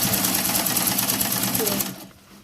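A sewing machine hums in a fast, even run while sewing a pocket seam closed, then stops abruptly near the end, leaving quiet room noise.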